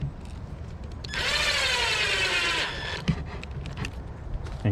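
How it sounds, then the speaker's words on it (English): A power tool working on a Hobao Hyper MT Plus II RC monster truck whirs up and runs steadily for about a second and a half, then winds down, followed by a few faint knocks. "I'm using a power tool with this."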